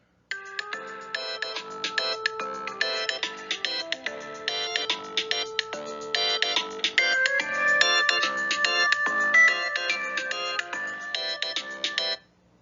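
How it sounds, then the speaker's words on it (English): A phone ringtone for an incoming call plays alone as a bright melodic electronic tune of rapid repeating notes, close and steady for about twelve seconds before stopping. "Randy was relaxing at home when he got a phone call."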